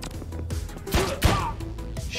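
Gunfire in John Wick Hex, a couple of sharp heavy shots with thudding impacts over a busy low background, brief and fairly loud.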